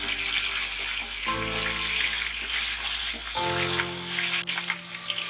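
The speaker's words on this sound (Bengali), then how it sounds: "চিংড়ি মাছগুলো হালকা ভাজা হয়ে গেছে," Shrimp fry lightly in hot mustard oil in a wok, giving a continuous close sizzle with a low steady hum underneath.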